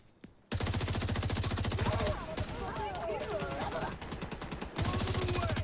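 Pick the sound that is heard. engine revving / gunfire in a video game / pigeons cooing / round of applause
gunfire in a video game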